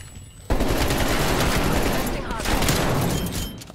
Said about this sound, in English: I found the guy that's shooting me